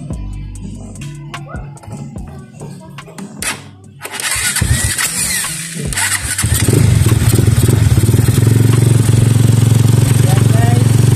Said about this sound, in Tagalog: So pa-start namin yung motor.